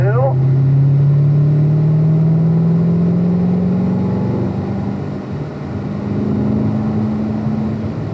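A car accelerating downhill on the Spring Mountain Motorsports Resort race track, with a steady loud engine drone that rises in pitch as it gains speed, heard from inside the car, a voice talking over it.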